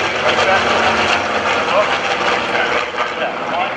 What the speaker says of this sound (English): Skyraider made his first pass